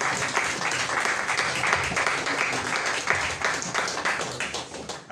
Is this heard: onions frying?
no